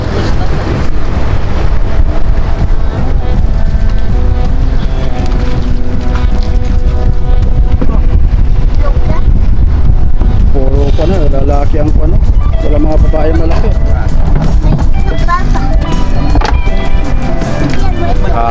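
Strong northeast monsoon wind roars at sea aboard a fishing boat out by the reef, a loud continuous rumble of gusts and engine-like drone filling the whole stretch, with people talking over it.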